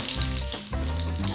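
Tempering spices crackling in hot oil in a pan for Rayalaseema-style pulihora, a loud close sizzle with bursts of popping and brief dips.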